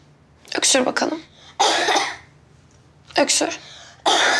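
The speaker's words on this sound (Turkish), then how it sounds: "Öksür bakalım." A child coughs on request during a doctor's examination, several short bursts in separate clusters, fairly loud and close, with no talk over them.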